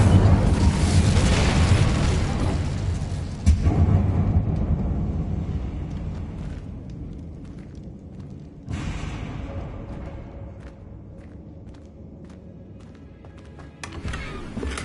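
An Incendio fire spell cast in Hogwarts Legacy bursts with a loud, booming whoosh that slowly fades into a low rumble, followed by a second softer burst and scattered crackles.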